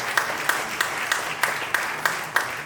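A comedy-show audience claps in a fairly even, rhythmic pattern, with regular sharp hand claps standing out over a busy crowd, like a small group clapping together.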